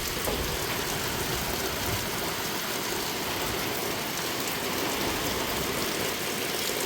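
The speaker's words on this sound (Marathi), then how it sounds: "पाऊस आलेला आहे, पाऊस सुंदर." Heavy rain pours down in a Konkan village during the first shower of May, a dense, even hiss of drops on surfaces that stays close and constant throughout, with no voices.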